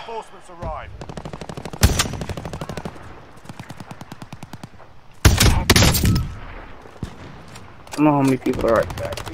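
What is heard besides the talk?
gunshots in a video game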